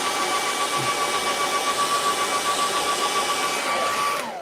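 A hair dryer blows steadily on wet paint on a sunset path painting, a loud, close, continuous whooshing roar with a faint whine that holds level for several seconds before cutting off at the end.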